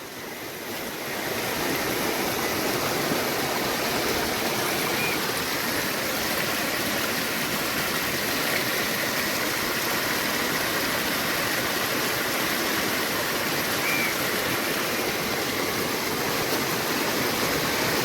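Floodwater from an overflowing reservoir after a cyclone rushes as a broad, steady roar, loud and continuous with no pauses.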